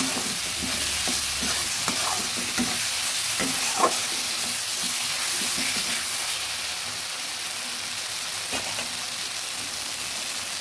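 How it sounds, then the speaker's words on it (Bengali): A pan of fish curry with green chilies sizzles and hisses loudly as water is poured in, a dense, steady frying roar with occasional clinks of stirring and no talking. "এবার জল দিয়ে দেবো। সঙ্গে দিয়ে দিচ্ছি দুটো কাঁচা লঙ্কা"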